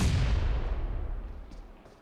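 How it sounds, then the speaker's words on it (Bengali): A grenade explodes in Battlegrounds Mobile India, heard as a single deep, rumbling boom caught in its fading tail, growing steadily quieter over about two seconds. "গ্রেনেড।"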